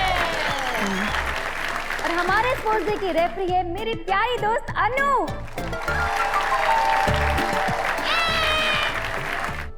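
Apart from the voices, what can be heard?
audience applause before a lemon and spoon race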